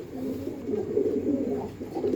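Soft, low cooing of a Punjabi pigeon repeats steadily over a muffled background, close by and continuous with no voices.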